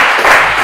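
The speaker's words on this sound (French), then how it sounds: "merci de l'applaudir" Audience applause at a general-knowledge quiz game event in Lubumbashi: a brief, dense burst of clapping from a crowd, steady and fairly loud throughout without any speech.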